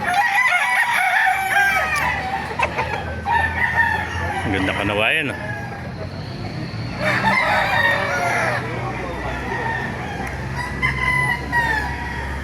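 Roosters crowing and hens clucking at a busy chicken market in Baliuag, with repeated crows rising over steady crowd murmur while people talk close by.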